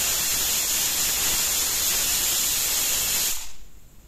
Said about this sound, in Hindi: उसके बाद कुकर की लिड लगा दी है और हाई फ्लेम पर 1 सीटी ली है।